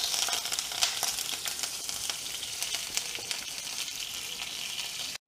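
Mustard seeds, dried red chili and asafoetida sizzle in hot oil for a South Indian Onam festival lunch dish, a loud steady crackling fry with small popping bursts, close and uninterrupted until a sudden cut at the end.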